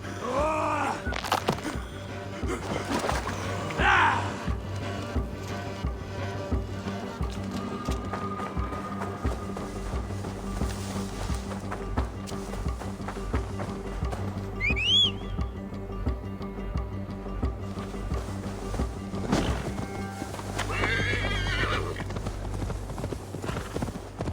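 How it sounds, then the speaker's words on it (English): Steady clip-clop of a horse's hooves in Assassin's Creed Valhalla plods on through a background music bed, with an occasional horse snort and a brief whistle-like tone. "Now to deliver Magni his horse."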